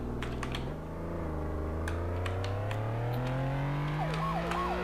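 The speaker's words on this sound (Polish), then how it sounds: "są dwie w sumie dźwięki syren, to jest ten ciągły dźwięk" A police siren in the game Flashing Lights wails with rising and falling pitch over a steady engine drone, while computer keys click intermittently nearby.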